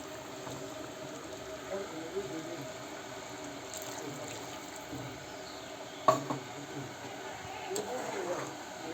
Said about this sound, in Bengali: এখন সিদ্ধ হওয়ার জন্য কিছুটা পানি দিয়ে দিচ্ছি।